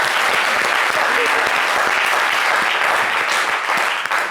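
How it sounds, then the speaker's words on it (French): A live television studio audience claps steadily for a guest, a dense, continuous wash of applause that holds at full volume throughout. "Julien Guallo qu'on applaudit au passage."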